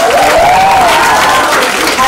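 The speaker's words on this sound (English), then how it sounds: "Huge round of applause" Applause from a conference audience greeting delegates at a kinesiology congress, a dense, steady wash of clapping heard up close alongside an announcer's voice throughout.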